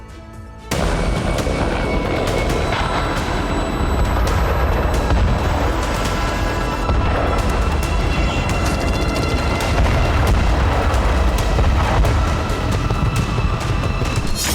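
Russian rocket launcher strikes hitting Ukrainian positions in eastern Pokrovsk: a loud, continuous roar of booming blasts and rumbling fire begins abruptly after a brief quiet moment and keeps going without a break.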